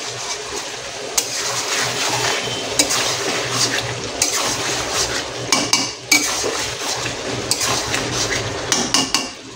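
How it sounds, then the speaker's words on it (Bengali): Chicken kosha stirred in a pan with oil, a metal spatula repeatedly scraping and clanking against the pan over a constant sizzling hiss. "আর একবার সুন্দর করে নাড়াবো।"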